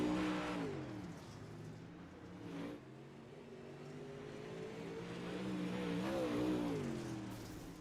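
Dirt track Big Block and Ump modified race cars roar through the last lap of a heat, engines revving and rising as the pack sweeps past, a steady loud drone with surging pitch and no voices.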